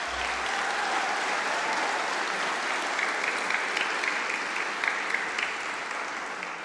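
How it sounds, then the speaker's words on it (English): Graduation ceremony audience applauding graduands at Melbourne Polytechnic, a dense, even wash of clapping from a large crowd in a hall, steady throughout and fading slightly at the end. "Let's all give our graduands a huge round of applause."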